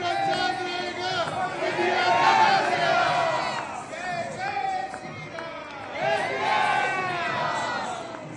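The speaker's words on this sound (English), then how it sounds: "interacted with the enthusiastic crowds who chanted Bharat Mata Ki Jai and Modi Modi to welcome" A large, enthusiastic crowd chants and cheers to welcome Prime Minister Modi, rising in two loud surges of many voices, with the shouting close and continuous throughout.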